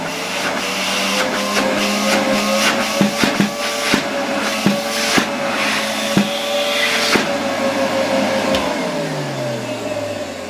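Zelmer vacuum cleaner motor running at reduced voltage and low power, a steady whirring hum with rattling clicks through the middle, the pitch sagging and winding down near the end; close up, no talk.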